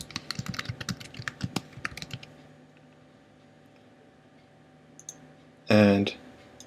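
Computer keyboard keys tapped rapidly while entering code in Flash, a fast burst of close clicks for about two seconds, then quiet, ending with a brief louder clatter.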